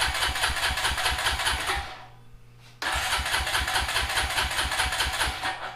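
Honda Rancher ATV with a new carburetor cranking over with a fast, loud, even chugging starter rhythm, a brief pause of near silence, then a second long cranking attempt.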